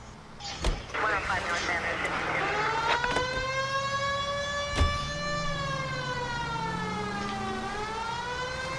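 A police car siren wails in rising and falling sweeps, loud and close, after a few sharp clicks and bumps at the start.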